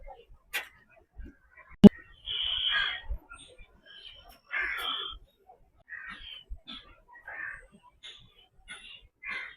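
Birds chirp and crows caw now and then on a quiet morning in Thane's Oxygen Park, a garden of medicinal trees, with one sharp click partway through.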